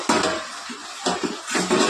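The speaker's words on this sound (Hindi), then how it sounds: "तो हमारे जियान बाबा जो है सो धो दिए प्लेट उनकी" Plates being washed in a home kitchen during Ramadan iftar preparation: water splashing and dishes clinking in a few bursts, close and moderately loud, with no talk over it.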